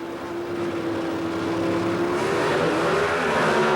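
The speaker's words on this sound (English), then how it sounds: "Our first pair, the classic Ford versus Chevrolet matchup, the Ford Fairmont of Bob Glidden against Fr" At the 1980 NHRA U.S. Nationals in Indianapolis, a Ford Fairmont and a Chevrolet Camaro launch off the drag strip line together, their engines roaring loud and steady as the pitch rises through the run.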